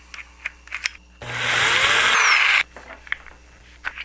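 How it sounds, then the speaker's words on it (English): A power drill bores a hole for a power connector, a loud steady whine lasting about a second and a half between faint clicks and handling taps. "I'm going to drill the hole for the power."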